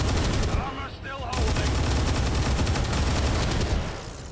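Chain shot gunfire aimed at a turret in XCOM 2 with the Long War 2 mod: a loud, dense burst of rapid shots that fills the clip, with a brief dip in the middle.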